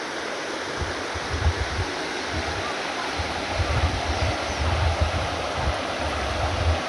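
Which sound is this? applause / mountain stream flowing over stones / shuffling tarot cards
mountain stream flowing over stones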